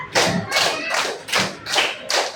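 Children in a primary school classroom clap hands together in a game, about five sharp bursts spaced roughly half a second apart, fairly close with no talking.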